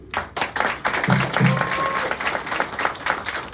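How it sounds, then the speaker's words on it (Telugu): Audience applause in a hall, a short burst of clapping from a crowd that swells and carries on for a few seconds. "Claps please."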